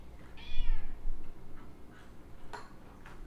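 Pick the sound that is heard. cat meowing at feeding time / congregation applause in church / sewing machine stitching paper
cat meowing at feeding time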